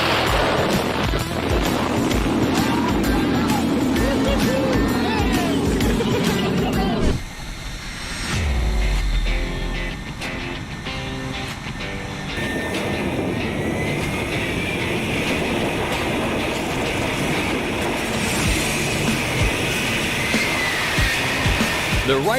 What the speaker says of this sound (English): The Blue Angels have some of the swiftest takeoffs in the aviation industry